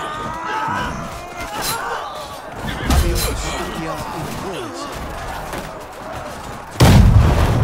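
Heavy cannon blasts boom out in the game Conqueror's Blade, one near the middle and a louder one near the end, with lighter clatter and chatter between them.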